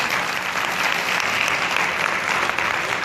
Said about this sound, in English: Can I please get a great round of applause for our panelists?